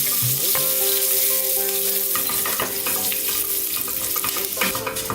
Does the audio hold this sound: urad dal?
yes